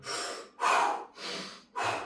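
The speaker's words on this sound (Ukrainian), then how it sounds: "Має бути потужне дихання." Four strong, forceful breaths alternate in and out, each about half a second long, loud and close, with short pauses between them.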